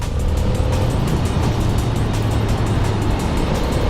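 Ducati 800 Monster S2R motorcycle out on a road ride: a steady, loud engine drone with constant rushing wind noise throughout, close up and without any voices.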